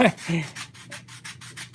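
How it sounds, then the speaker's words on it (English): Hand sanding filler on a model airplane up close: rhythmic back-and-forth rubbing strokes, about eight in quick succession, each a short scratchy swish. "So what this does is I'm sanding this out."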